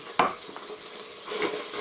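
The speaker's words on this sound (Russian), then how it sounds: "Также размешиваем и пусть дальше будет жариться." Duck pieces with onion in vegetable oil are stirred in a multicooker bowl for plov, giving a couple of scraping stirs over a steady soft sizzle of frying, heard close with no talking.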